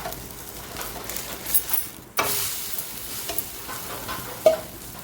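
A jowar flour and poha flatbread roasting on a pan without oil, with a soft, steady hiss and occasional light scrapes and taps as it is turned.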